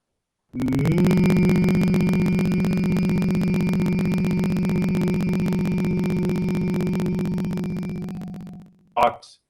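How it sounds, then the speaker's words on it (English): A single person hums deeply and intensely as a demonstration, holding one low steady tone for about eight seconds at close range before a brief breath or noise at the end. "take a deep breath, and then hum deeply and intensely"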